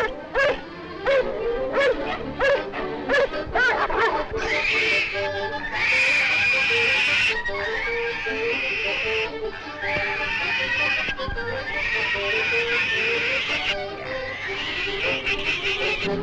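Dogs attacking a wild sow and her piglets, with a rapid series of sharp barks and yelps giving way to sustained loud squealing and howling cries, close and continuous.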